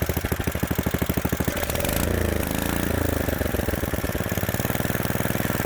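A rebuilt Kohler K91 small engine runs close by with a rapid, even pulsing idle, then revs up with a rougher, louder roar before settling back into its steady chugging beat.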